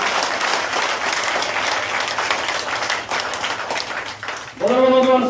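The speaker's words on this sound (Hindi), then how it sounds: "जोरदार ताली चौधरी साहब का स्वागत करें।" A rally crowd in Jhajjar gives a dense, roaring round of applause welcoming Chaudhary Sahab, sustained for several seconds before a loudspeaker voice cuts in at the end.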